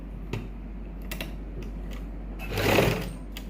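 A sewing machine stitches lace onto a salwar strip: a few faint clicks and a low hum, then a short, louder burst of running stitching near the end.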